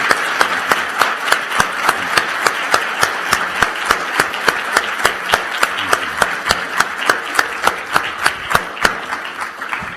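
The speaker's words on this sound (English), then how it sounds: "Let's give Steve a round of applause." A university leadership-series audience applauds Kellogg Company CEO Steve Cahillane, loud dense clapping from a large crowd with one sharp rhythmic clapper standing out in a steady beat throughout.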